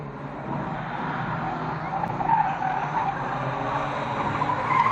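Banger cars including an Acclaim race around Fleet Raceway at an old boys meeting, a continuous roar of engines with skidding and tyre scrub, loud and building slightly toward the end.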